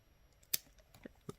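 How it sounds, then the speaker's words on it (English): Beading string snipped with scissors while making pearl earrings, a few faint, sharp clicks spaced apart in an otherwise quiet room. "that string is going to get trimmed off because it's too long"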